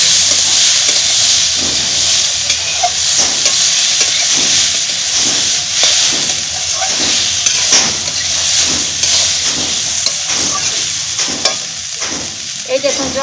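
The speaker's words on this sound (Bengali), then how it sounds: "এই দেখুন জল দিয়ে দিলাম" Stirring in a pan of hot mustard oil and water for a village-style Bengali fig dish, a steady hiss and sizzle with repeated scraping strokes in a loose rhythm, close and continuous with no talking.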